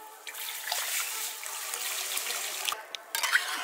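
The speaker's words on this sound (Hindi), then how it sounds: "तो यहीं पे हम डाल लेते हैं पानी।" Water is poured into roasted semolina in a pan for halwa, giving a steady hissing, trickling pour with small splashes and a few clinks near the end.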